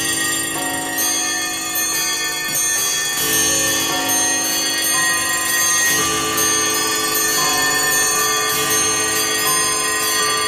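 Chiming clock bells ringing together in the intro of a song, a dense cascade of overlapping bell strikes and ticking clocks that stays loud and busy throughout, with no voices.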